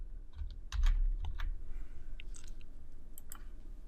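Close keystrokes on a computer keyboard come in quick irregular clusters of taps while code is typed, fairly quiet with no talk.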